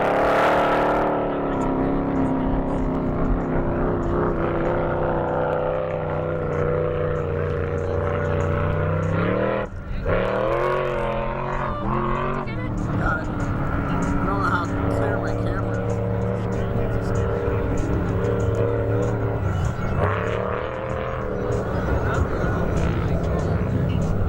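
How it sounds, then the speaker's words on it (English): A big sand car with an LS V8 engine roars up and down sand hills at Dumont dunes in California, a loud, sustained engine drone that swells and dips with revving across the whole stretch. "it's awesome watching these big guys with these LS motors go up and down these hills"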